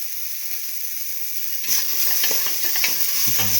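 Tomato mixed with salt sautés in a pan with a steady sizzle, joined midway by scraping and stirring noises and occasional clacks of a utensil, with no talking.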